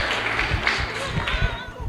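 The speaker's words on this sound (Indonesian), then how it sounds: "Tepuk tangan dulu buat kapan kita." A seminar audience gives a short round of clapping after a talk on tourism, with scattered claps heard beneath a voice that keeps speaking.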